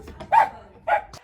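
A dog barks twice, close by and fairly loud, two short separate woofs with no talk over them.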